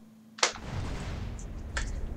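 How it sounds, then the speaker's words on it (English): A sudden explosion blast in GTA San Andreas, a sharp loud burst followed by a sustained rumbling roar, with a second crackling burst near the end. "Why there's an explosion?"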